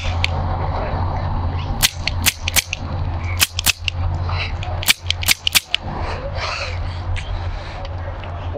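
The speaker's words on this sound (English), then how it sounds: "Those were warning shots. And now it's your time to die" Gunshots ring out in a western short film: a volley of sharp, loud cracks in rapid bursts over a low steady hum, spaced across several seconds.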